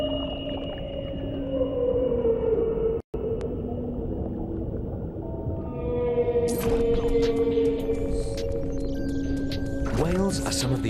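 Long, wavering whale calls moan and glide in pitch over a low underwater rumble, with rising whoops and creaking tones layering in toward the end, steady and fairly loud.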